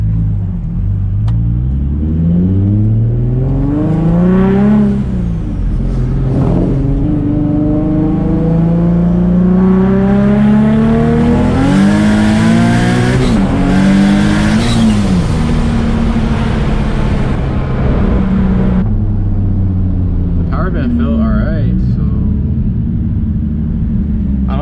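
A boosted Nissan Z turbo car makes a loud, sustained full-throttle pull, its engine note climbing through several gears, with brief dips at each shift and a steady rise in pitch before easing off near the end.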